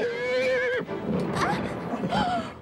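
A horse whinnies loudly with a long wavering cry, followed by snorts and a second shorter neigh close by.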